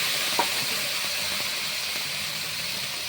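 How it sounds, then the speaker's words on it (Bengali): Chopped eggplant and pumpkin peel hit hot oil in a wok and set off a steady, hissing sizzle that carries on evenly throughout at close range, with no voices. "এখন তেল গরম হয়েছে, কড়ার মধ্যে আমি সবজি কাটাগুলো ঢেলে দিচ্ছি।"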